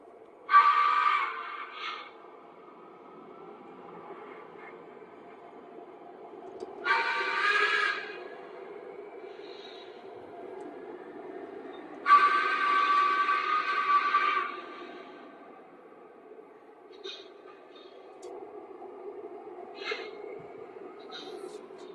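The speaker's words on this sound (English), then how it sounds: "Toggle between turning and chuffing." Model steam locomotive sound decoder playing short bursts of chuff and hiss at irregular intervals over a faint steady hum, fairly quiet and close, with no voices.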